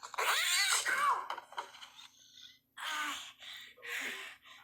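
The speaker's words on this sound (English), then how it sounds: "Playing the cat's audio." A cat from the horror film Child's Play gives loud, strained yowls and hissing cries in several bursts, the first long and wavering, then two shorter ones after a brief silence.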